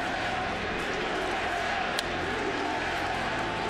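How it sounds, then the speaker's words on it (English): A large stadium crowd at a baseball game roars and chants USA as a steady, distant wall of voices, with no single voice standing out. "Got a chant of USA as the news goes through the crowd"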